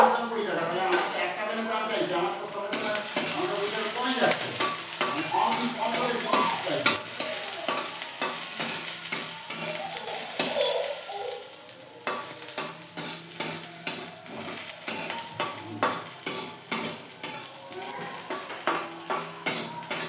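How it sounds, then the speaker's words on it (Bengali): Onions frying in a hot pan for a drumstick, potato and eggplant curry: a continuous close sizzle with rapid, repeated scraping and tapping of a spoon stirring against the pan, the strokes growing more distinct toward the end. "দেখুন আমার পেঁয়াজগুলো ভাজা হয়ে গিয়েছে।"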